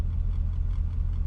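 A 1991 Chevrolet S10 truck with an LS engine swap idles, a steady low rumble with a faint rattle, close and unbroken for a brief moment.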